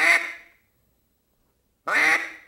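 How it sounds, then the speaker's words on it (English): Duck call blown with air to give single hen quacks, two separate nasal quacks about two seconds apart, close and clear against silence. "All we're looking for is single quacks."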